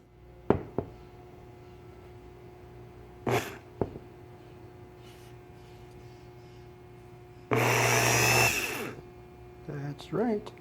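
A Magna starter motor spins counterclockwise on a bench in a few short whirring bursts, one longer and louder run near the end, separated by quiet gaps with faint knocks.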